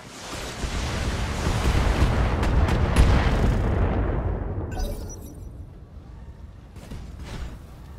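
Heavy mech weapons firing in the game BattleTech during an assassination mission on a tundra map: a loud sustained rumble of blasts for about five seconds, fading into a quieter low roar with a few softer later thumps.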